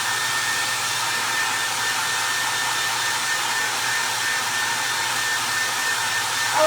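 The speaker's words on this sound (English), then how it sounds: "I'm gonna go fast, guys, with this noisy hair dryer" A noisy hair dryer runs steadily at close range, a constant loud airflow whine with a faint hum underneath, holding level for several seconds with no voices.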